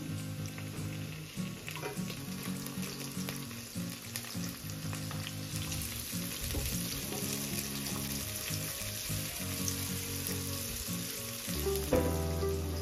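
Ginger, garlic and sliced onion frying in a pan, giving a steady, loud, continuous sizzle with scattered crackles throughout, and no voices.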